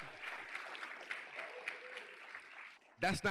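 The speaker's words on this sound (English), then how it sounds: "Y'all can clap it up for that." Applause from a keynote audience, a steady wash of clapping with some crowd murmur running for nearly three seconds before a brief voice cuts in at the end.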